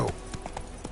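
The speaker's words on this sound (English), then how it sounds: "Run, Roach" Hoofbeats of a horse galloping in The Witcher 3, a few quick thuds at an even pace under low game ambience, brief and moderately close.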